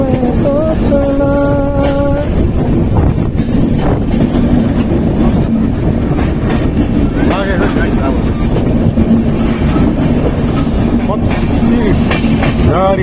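A passenger train rolls along the rails, a steady loud rumble filling the whole stretch while brief tonal notes rise over it near the start and faint voices come and go underneath.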